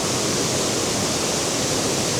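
Ffrwdgrech waterfall in the Brecon Beacons roars as a dense, continuous broadband rush of falling water and cascades, loud and close, with no voices.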